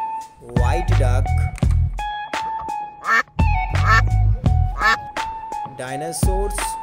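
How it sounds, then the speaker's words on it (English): A white duck quacks in repeated loud, nasal bursts in an irregular rhythm, close and clear with short gaps between calls. "White duck."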